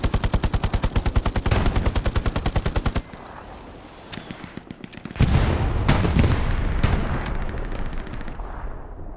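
Video game battle noise: a rapid, loud string of automatic gunfire, a quieter lull, then a heavy booming burst that fits an incoming artillery shell, followed by continued scattered shots and rumble.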